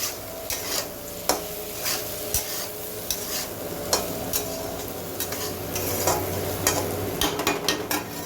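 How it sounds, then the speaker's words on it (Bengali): Potatoes fry in a pan over a low gas flame while a utensil stirs them, making a steady sizzle with occasional sharp scraping clinks against the pan. No voices are heard. "সিম করে ঢেকে আর একটু ভেজে নেব। আমার আলুটা কষানো হয়ে গেছে।"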